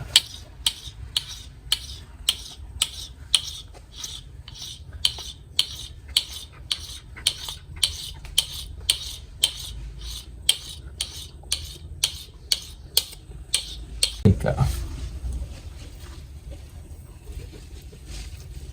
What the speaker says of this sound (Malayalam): ഇനി കത്തി കൊണ്ട് ചെറുതാക്കി ഇങ്ങനെ അരിഞ്ഞെടുക്കുക